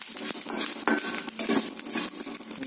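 Whole spices such as black pepper, shahi jeera, bay leaves and fennel being stirred together in a pan while dry-roasting for biryani powder, giving a close, rustling, crackly scrape in short uneven strokes.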